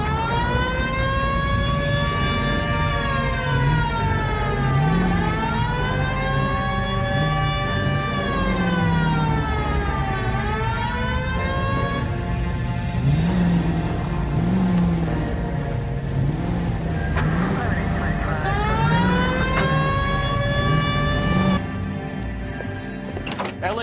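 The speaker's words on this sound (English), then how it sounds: "Hit the siren." Wailing police car siren in the video game L.A. Noire, its rising and falling sweeps repeating steadily and loudly for over twenty seconds over a low rumbling car engine.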